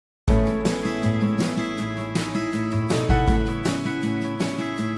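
Full music mixdown with parallel compression on the drums, punchy kick and snare hits driving a steady beat under sustained tonal parts, loud and dense throughout with no voices.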